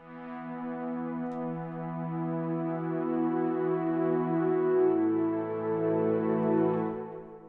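A sustained, dark wavetable synth pad holding layered tones, shifting chords midway with a soft reverberant tail.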